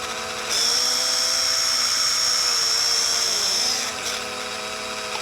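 A small flea-market toy drone's motors spin up into a high, steady whine that holds for about three seconds and then cuts off, close and fairly loud, with the drone stuck and unable to lift off.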